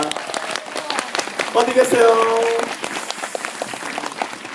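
A crowd at a Kim Soo-hyun fan meeting event in Seoul applauds with steady, dense clapping while a host speaks over it.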